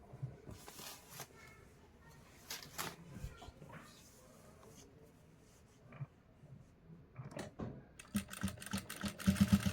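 A sewing machine stitches fabric while elastic is being sewn in, heard close and moderately loud. Its rapid mechanical clatter builds in bursts toward the end, broken by softer handling and rustling noises.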